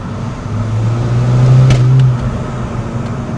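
A Mini Cooper S with a freshly rebuilt engine is driven on the road. A steady engine drone swells in the middle and then eases back, close and fairly loud, with no talking.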